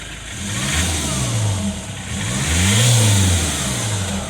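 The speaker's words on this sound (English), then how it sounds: "If I put that onto record, I'll rev it up again." A Jaguar X-Type 2.0 diesel engine with a loss-of-power fault revs up twice, rising and falling in loud, close surges over a running idle.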